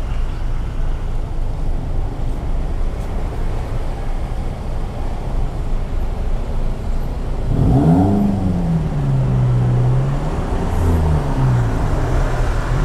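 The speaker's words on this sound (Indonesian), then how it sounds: "Jalurnya macet sekali ya." Congested morning road traffic in a crowded Bali residential area, a steady dense rumble of engines with occasional revving, loud and continuous, with brief talk near the end.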